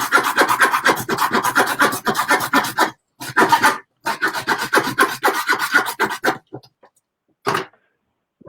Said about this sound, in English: And just start sawing.